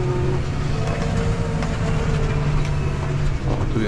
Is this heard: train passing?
yes